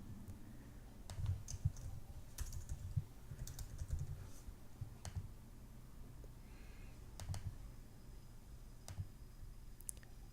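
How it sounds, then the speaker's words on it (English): A name is typed on a computer keyboard, with soft scattered key clicks in irregular clusters over a low steady hum, quiet and close, with no voices. "I'm just going to go ahead and fill in his first name as Plato"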